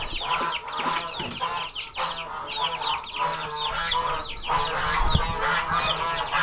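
Chickens, geese and goslings in a big outdoor coop cluck, honk and call over one another continuously, a busy layered flock chorus close by with scattered louder squawks.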